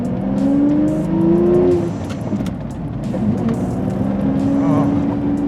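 A 2003 Lamborghini Murciélago V12 with a manual gearbox drones at low revs while driving, rising in pitch, easing off, then climbing again. Heard from inside the car, loud and continuous, with some talk mixed in.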